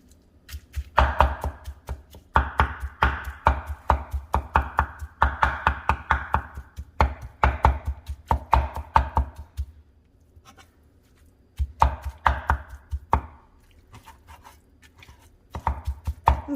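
Slow cooker pork roast being shredded, likely with forks, making a steady run of rapid scraping, tapping strokes in long bursts, a short pause, then more bursts, close and fairly loud with no talking.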